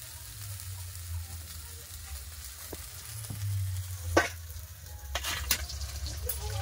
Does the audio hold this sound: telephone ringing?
no